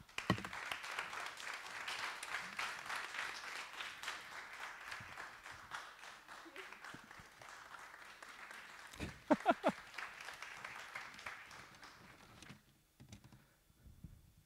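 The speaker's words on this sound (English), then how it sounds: "Please, another round of applause." An audience at a TEDx talk applauds with a dense, continuous patter of clapping that holds for about twelve seconds before quickly dying away, with a few louder claps near the end.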